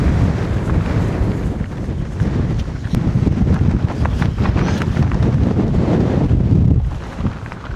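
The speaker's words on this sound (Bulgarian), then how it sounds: "Ураганен вятър." Strong gusting wind on the 2275 m summit of Golyam Kademliya, buffeting the microphone as a loud, continuous roar with rushes and bursts. It eases slightly near the end, and no one speaks.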